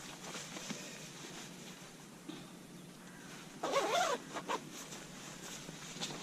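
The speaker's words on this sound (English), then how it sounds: "Get the gaiters on for up here." Hiking gaiters being zipped up outdoors, with faint rustling followed by a few quick, close zipper pulls in short bursts, and no talking.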